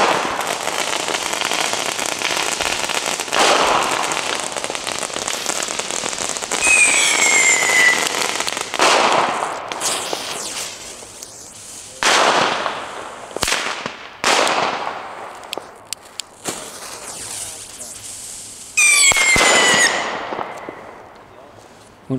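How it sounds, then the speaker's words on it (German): Lesli China firecrackers, small German Böller, popping in rapid crackling strings and scattered single bangs, loud and sharp outdoors, with a few whistling bursts and brief pauses between volleys. "Wir fangen mit den China-Knallern an."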